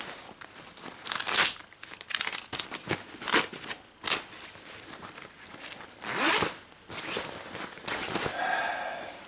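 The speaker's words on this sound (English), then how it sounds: "a zipper." A zipper on a new nylon-and-cotton Tru Spec tactical garment is pulled several times in short rasping strokes, close and fairly loud, mixed with crinkling fabric and packaging rustle.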